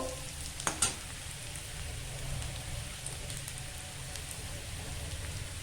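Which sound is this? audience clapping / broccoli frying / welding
broccoli frying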